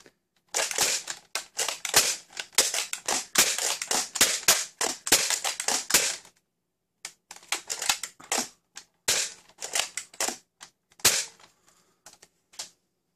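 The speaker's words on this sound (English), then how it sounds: "Now I know I dry fire it a lot, but there's not really a good seal on it." Dart Zone Pro MK-2.1 blaster dry fired over and over, a rapid stream of sharp plasticky snaps and clacks up close, broken by a brief pause before another fast burst.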